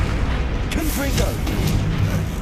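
A blasting spell explosion erupts in the wizarding game Hogwarts Legacy during a fight near a troll, a dense booming roar that fills the whole stretch under a voice.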